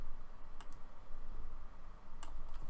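Keyboard shortcuts and mouse clicks during Photoshop editing: a few sharp separate clicks, near and fairly quiet, over a low steady room hum, with no talking.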